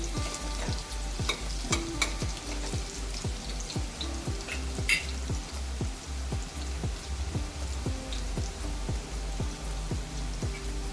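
Garlic sautéing in a pan, cooked for fish, gives a steady sizzle with repeated spatula scrapes and stirring clicks in a regular rhythm, close and loud, with no talk.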